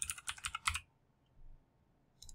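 Quick bursts of typing on a computer keyboard: a rapid run of clicking keystrokes, then a pause and a few more taps near the end, close and alone with no voices.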